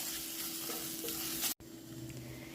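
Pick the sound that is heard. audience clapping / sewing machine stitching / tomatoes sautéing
tomatoes sautéing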